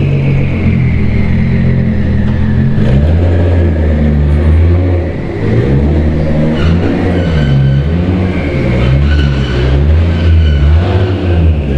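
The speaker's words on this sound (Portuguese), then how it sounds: "é uma experiência muito louca andar com carro de drift na rua" Nissan 370Z drift car driven on a city street, engine droning and rising through revs with shifting pitch, loud and close from inside the cabin with the window open, no talking.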